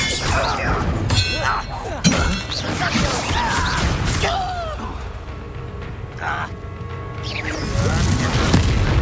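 Confringo blasting spells in Hogwarts Legacy combat, sharp crashing bursts and booming impacts mixed with whooshing effects and in-game voices speaking over the action.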